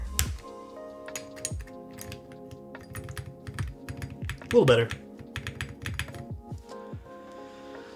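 Close-up typing on a mechanical keyboard fitted with Awekeys metal keycaps, giving a run of sharp, bright clacks with a slightly metallic ring, steady but uneven in rhythm. Someone speaks briefly over the keystrokes.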